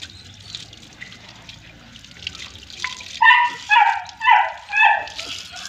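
A Great Dane is bathed with water, with a low wet background giving way to four loud, close yelping barks in quick succession.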